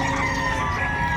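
Chickens clucking and crowing amid the background bustle of a livestock auction market, a short continuous burst of fowl calls.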